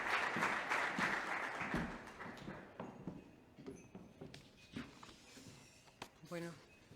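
An audience at a business event on small and medium enterprises and tourism applauds as a regional economy official is welcomed, with clapping loudest at the start, then thinning into scattered claps and shuffling as a voice begins speaking.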